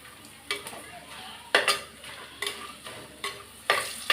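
Sun-dried vathal crisping in a hot pan for kara kuzhambu, heard as repeated bursts of sharp sizzling and stirring scrapes that flare up every second or so, fairly close, with no voices.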